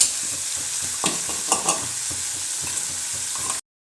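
Ginger, garlic and green chilli paste sizzles in onion-based biryani masala for an egg biryani, a close, continuous frying hiss with occasional scrapes and taps of stirring, ending abruptly.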